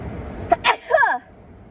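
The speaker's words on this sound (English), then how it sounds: "Sneeze." A single sharp sneeze with a quick intake of breath, loud and close, followed by a short voiced exhale.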